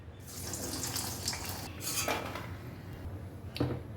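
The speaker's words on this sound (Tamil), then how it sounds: "இப்போ இதை வந்து எண்ணெயில் ஃப்ரை பண்ணிடுறேன்" Slices of raw banana fry in hot oil with a soft, steady sizzling hiss and an occasional clink of a utensil, heard quietly with no talking.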